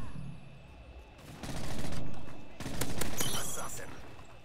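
Bursts of automatic gunfire hitting an enemy in Call of Duty Modern Warfare 3, two loud swelling volleys of rapid shots over game ambience, with a voice talking.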